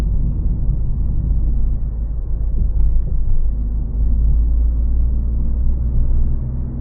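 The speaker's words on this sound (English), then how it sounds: "it's accelerating super nicely from a low gear. sounds good as well." A Citroën C3 1.2 PureTech 100 HP petrol engine with a 6-speed manual pulls hard from a low gear while driving at night, giving a steady, loud low rumble from inside the cabin that swells slightly as it accelerates.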